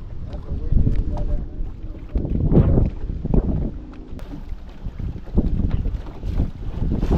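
Wind blowing over a lake around a drifting fishing boat on a windy day of crappie fishing, with steady gusty rumble and water lapping against the hull throughout.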